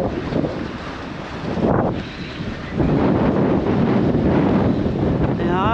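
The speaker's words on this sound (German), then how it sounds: "Wind kommt wieder auf." Strong wind buffets the microphone aboard a motorboat cruising in the Netherlands in May, a loud continuous rush with gusts that swell and ease, mixed with water sounds, and no talk.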